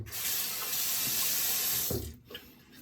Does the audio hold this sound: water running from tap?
yes